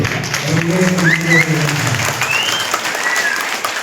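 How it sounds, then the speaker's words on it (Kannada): Steady applause from an audience at a children's fair closing ceremony, a dense wash of clapping that fills the few seconds at a constant level, with a voice speaking over it. "ಇನ್ನೊಂದ್ಸಾರಿ ಚಪ್ಪಾಳೆ ಕಟ್ಟಿ"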